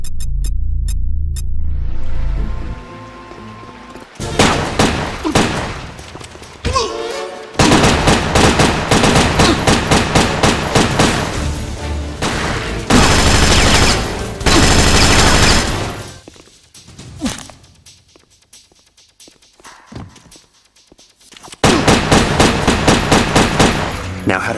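Gunfire from a PlayStation shooting game comes in loud rapid bursts and volleys, broken by brief quiet gaps, with a narrator talking over parts of it.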